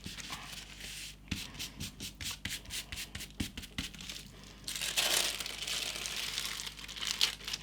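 A piece of tissue paper is dabbed and pressed against wet stencil paint on a journal tag, making soft crinkling, rubbing taps in quick bursts and then a longer rustle, close up with no speech.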